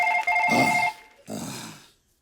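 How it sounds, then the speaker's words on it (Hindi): A phone ringtone plays a short electronic melody of bright repeating tones, then cuts off as a muffled voice and shuffling noises follow. "ओ, फोन है, फोन।"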